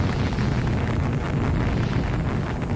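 A rocket engine ignites in Call of Duty: Black Ops at the Baikonur launch site, a loud, dense, continuous rumbling roar that fills the whole moment.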